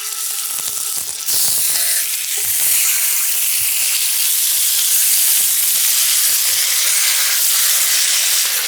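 Chicken thighs go skin side down into shimmering oil on medium-high heat and set off a loud, steady sizzle that swells just after they land and keeps hissing close by.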